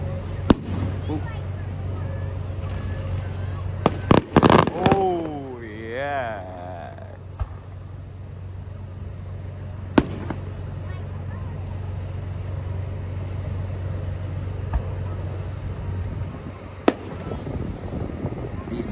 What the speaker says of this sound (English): Fireworks are awesome.